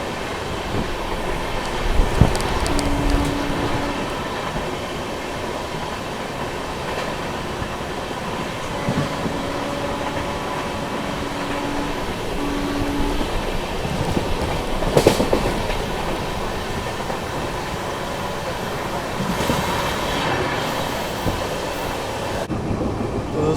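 The Mysore-Jaipur Express rolls steadily along the rails, a continuous close rumble with rhythmic clickety-clack of wheels over joints and occasional brief squeals and thumps, with no talking.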